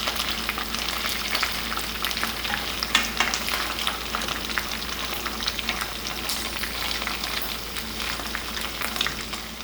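Garlic chicken frying in a covered pan over a low flame gives a continuous soft crackle and sizzle, steady and even throughout, heard up close at moderate volume with no voices.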